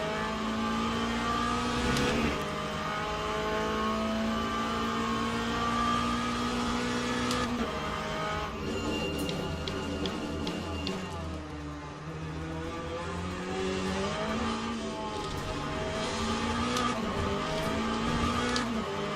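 Race car engines roar steadily in the Le Mans Ultimate sim at Fuji, a McLaren among them, with harmonic whine climbing and falling through gear changes and a brief tire scrub, loud and continuous without talk.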